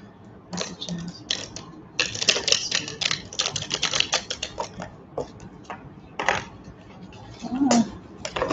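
Tarot cards being shuffled by hand: a run of quick, crisp, irregular clicks and snaps from the deck, close and fairly loud, with short pauses and bursts of faster riffling.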